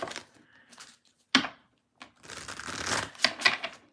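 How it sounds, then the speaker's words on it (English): Tarot cards are shuffled close up in a few quick bursts, crisp riffling and slapping bursts separated by short pauses, with no talk over them. "I'm going to shuffle and then we'll get into Gemini"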